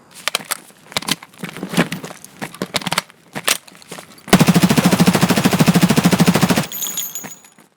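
An MP5 submachine gun in Escape From Tarkov fires one sustained, loud full-auto burst of rapid, evenly spaced shots lasting about two seconds, coming after a stretch of quieter clicks and handling noises.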